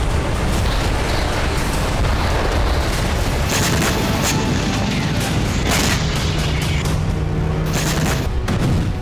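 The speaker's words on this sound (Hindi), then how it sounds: "जोरदार धमाका हुआ और टैंक स्वाहा हो गया।" A tank is destroyed by a loud explosion. Dense, booming detonations and crackling bursts roll on without a break, with deep rumble under sharp high snaps that grow busier toward the end.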